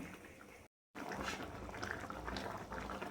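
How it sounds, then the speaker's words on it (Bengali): A pot of curry gravy with shrimp and pointed gourd simmers on a boil, giving a steady, close bubbling hiss. It drops out for a moment near the start, then returns just as strong. "ঝোলটা ফুটে গিয়েছে চিংড়ি মাছগুলো দিয়ে দিলাম দিয়ে একটু ফোটালে"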